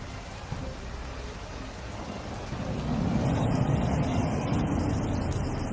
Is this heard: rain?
yes